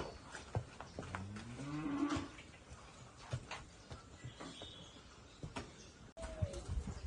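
A pregnant Girolando F1 cow, close to calving and carrying a calf by a Gyr dairy bull, gives one clear, drawn-out moo on a farm, with faint birds and scattered outdoor sounds around it.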